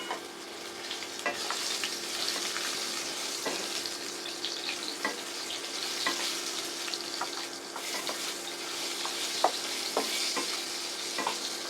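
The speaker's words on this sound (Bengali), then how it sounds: "এবার আমি অর্ধেক আলু কেটে রেখেছিলাম সেইটা দিয়ে দিলাম।" Cut potatoes added to hot oil with cumin seeds for a Bengali fish curry, frying in a steady crackling sizzle with repeated scrapes of a spatula against the pan, close and continuous, no voices.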